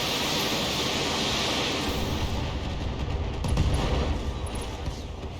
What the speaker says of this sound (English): Only fire 1 LRM-20.